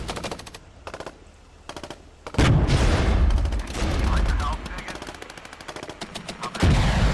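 Musket-style volleys from troops firing while advancing in the wargame Regiments, bursts of rapid crackling shots and heavier booms spread over several seconds, loud and close, with a voice speaking briefly between them.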